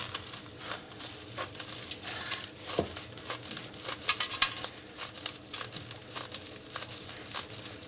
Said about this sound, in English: you take them out of the pack and then you want to cut them with a pair of scissors